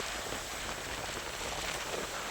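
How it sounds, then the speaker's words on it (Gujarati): Light unseasonal rain falls steadily outdoors during a sudden storm, a constant soft hiss with no voices. "ધીમે ધીમે વરસાદ પણ ચાલુ થઈ ગયો છે"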